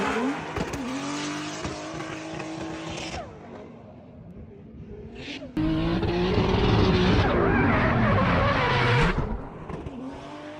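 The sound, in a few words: drift car going sideways into a turn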